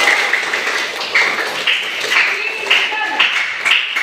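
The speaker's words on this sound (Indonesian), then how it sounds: "Oh, bagus sekali, tepuk tangan buat Mbak Abel." A classroom breaks into brief rhythmic clapping, a few uneven bursts close by, mixed with children's voices.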